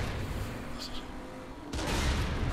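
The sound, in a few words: ship cannons firing in the video game Saints Row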